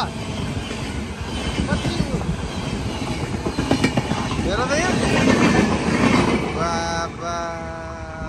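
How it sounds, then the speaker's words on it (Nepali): A long Indian train rumbles past on the railway in the Sikkim border area, with loud rolling wheels, clattering wagons and a brief squeal or horn-like tone near the end, while people talk over it. "यस्तो लामो ल अट्टाउने पो रहेछ हौ रेल त"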